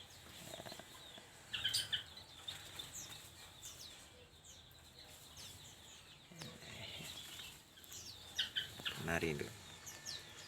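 Finches in a bird aviary in Jombang, East Java, give sharp, bright chirps and calls in scattered bursts, near and moderately loud against a quiet background.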